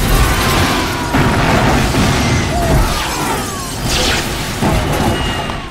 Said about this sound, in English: that was a great explosion.